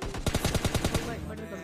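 Rapid automatic gunfire in a mobile shooting game, about a dozen evenly spaced shots in a quick burst lasting under a second, close and loud, then fading into quieter game ambience.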